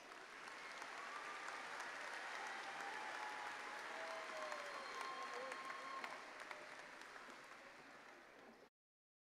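A graduation ceremony audience claps for newly named graduates, broad sustained applause from a large hall that stays full and steady before cutting off abruptly near the end.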